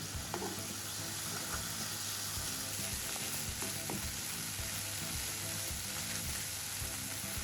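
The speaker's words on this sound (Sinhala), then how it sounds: "එළවලු ටික ටිකක් රත් වුණාම අපි ටොමැටෝ සෝස් ටිකත් එකතු කරගන්නවා." Vegetables frying in a pan with tomato sauce and soy sauce for a Sri Lankan mushroom dish, a dense continuous sizzle up close with occasional stirring scrapes.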